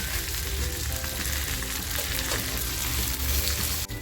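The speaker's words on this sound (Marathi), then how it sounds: "आपलं पॉपलेट आहेत ना ते दोन्ही बाजूने अशी छान क्रिस्पी फ्राय झालेली आहेत" Stuffed pomfret, filled with prawns, crisp-frying on a flat pan: a steady, close crackling sizzle holds throughout with no talk, broken by a brief knock near the end.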